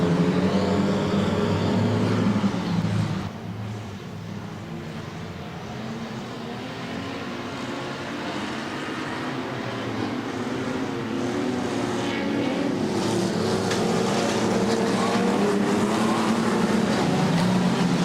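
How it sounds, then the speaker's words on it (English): Several stock car engines roar together in a continuous, loud drone as the cars circle a speedway, the pitch rising and falling as they pass. "We're off and away for heat number 3 for the stock cars."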